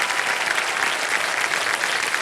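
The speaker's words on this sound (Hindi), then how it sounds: "उनको ताली बजाओ जोर से।" A studio audience on the quiz show Kaun Banega Crorepati applauds in a dense, even burst of clapping, close and sustained with no voices over it.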